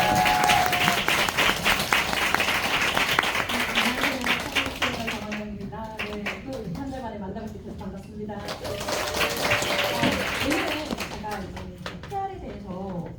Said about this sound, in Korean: 오늘 모실 때 큰 박수로 맞이해 주시기 바랍니다